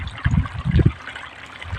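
Irrigation water trickles onto farmland in short, soft bursts over the first second, then thins to a quiet, steady dribble.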